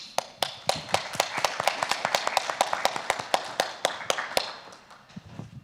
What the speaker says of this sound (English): People were clapping